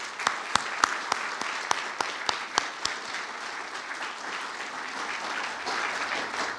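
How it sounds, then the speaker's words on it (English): Ethical leadership week keynote audience gives a round of applause: dense, steady clapping from a crowd, sharper claps standing out early before settling into an even, sustained roar with no talking. "Let's give all these people a big round of applause."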